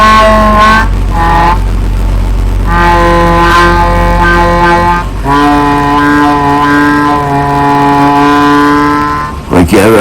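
Sustained reedy tones from a Swan 16-64 16-hole chromatic harmonica without wind savers, played close up as single held notes and chords that bend and slide in pitch, with short breaths between phrases.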